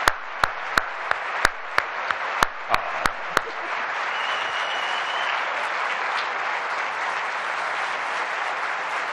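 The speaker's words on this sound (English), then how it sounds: "please, a round of applause for Dr. Reisman." Audience applause for a presenter at a conference swells into a dense, sustained wash of clapping, with a few sharp, loud claps standing out near the start before the sound evens out.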